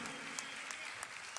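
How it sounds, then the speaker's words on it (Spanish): Steady clapping from a theatre audience at a concert in Cali, Colombia, a continuous wash of many hands with a few sharper claps standing out, sustained evenly throughout. "El aplauso es para Patillas, Víctor Sánchez y su querida esposa, Marta."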